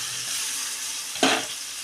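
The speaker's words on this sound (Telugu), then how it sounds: "చికెన్ బిర్యానీకి మంచిగా పట్టాలి కాబట్టి దీన్ని అయితే మంచిగా ఫ్రై కానివ్వాలి" Ingredients fry in a pot for chicken biryani, a steady close sizzle that swells into a brief louder burst of hissing as something is stirred or added, then settles back.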